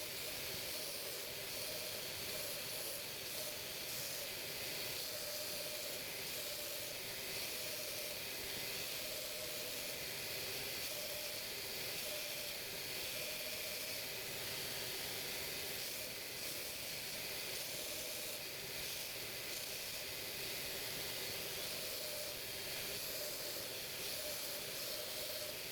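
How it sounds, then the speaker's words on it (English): A belt grinder fitted with a coarse-grit belt grinds material from a knife handle block, giving a constant loud hissing roar that holds unbroken for the whole stretch, with no talking. "On the belt grinder, using a coarser grit, I remove material until I reach these lines"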